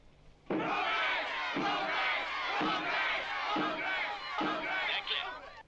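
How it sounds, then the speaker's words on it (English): A crowd bursts into loud unison chanting of a single word, repeated in about five rhythmic pulses that roar up suddenly and stay full and close. "And then the crowd says, progress. They chant progress."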